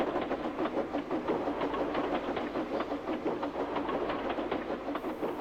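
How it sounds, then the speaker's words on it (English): A train from the Trainz video game rolls past with steady, rapid clickety-clack of wheels over rail joints, loud and continuous, with no voices. "All Henry could do was watch other engines pass by with their trains."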